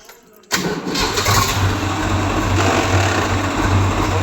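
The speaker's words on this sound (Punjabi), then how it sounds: "ਚੱਲ ਪਿਆ ਟਰੈਕਟਰ" A tractor engine catches after a short crank and settles straight into a loud, steady, close idle that runs to the end.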